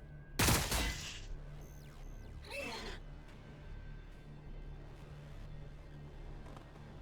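Gunfire from the strategy video game Warhammer Battlesector, Tyranid Termagant units in multiplayer: one loud burst of rapid shots near the start, then a quieter second volley, over a steady low game ambience.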